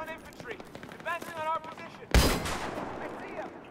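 A single loud burst of enemy rifle fire cracks out midway through a Battlefield 3 single-player battle, with a voice talking before it and the echo trailing off afterward.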